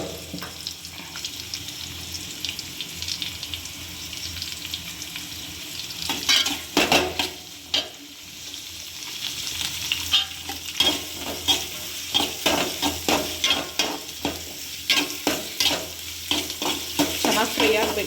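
Curry leaves sizzle and crackle in hot oil as tempering for a Karnataka village-style uruli kal sambar, with steady frying hiss and repeated stirring scrapes in the pan, close and alone without talk.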